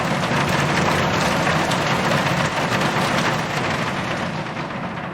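Heavy rain drums loudly and steadily on a taut plastic roof, a dense continuous roar with a low rumble beneath it, no voices.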